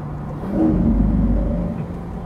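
A Lamborghini engine swells in a deep, close rev that rises and holds for about a second before easing back to a steady rumbling idle.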